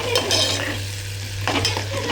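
Onions fry in a pan for a juṇaka sambar, a loud steady sizzle with bursts of stirring scrapes close by and no talking.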